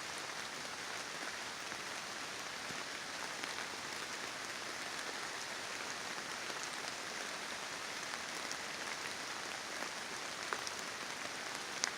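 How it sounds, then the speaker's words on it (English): Steady rain falls through a quiet forest, a soft even patter of drops on leaves and ground that holds constant throughout, with no voices or wind. "I just love being in the forest when it's raining."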